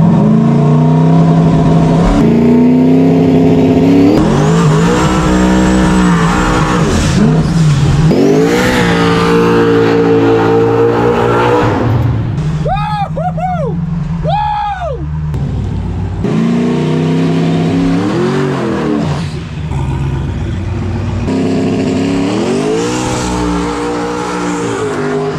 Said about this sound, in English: Surprisingly, the car launches pretty good.